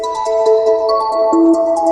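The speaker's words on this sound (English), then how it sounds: "that sort of makes me think of a ringtone that I had once." Phone ringtone sample played back: a bright, synthetic melodic jingle of quick tonal notes, loud and clear throughout with no talk.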